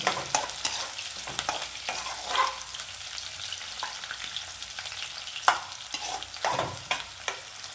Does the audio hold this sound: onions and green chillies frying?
yes